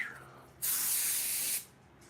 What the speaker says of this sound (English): I need to get more compressed air.